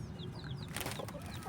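A Silkie hen clucks softly near hatching chicks in a backyard, with short chirping calls and a brief burst of rustling or flapping in the middle, quiet and close, with no voices.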